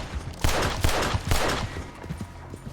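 Gunfire in the video game Red Dead Redemption: a rapid burst of several loud, close shots in quick succession, followed by fainter scattered cracks as the volley tails off, with no speech.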